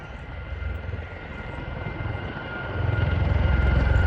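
An aircraft at an air show passes overhead with a steady engine drone that builds louder toward the end as it turns back toward the crowd, with no voices over it.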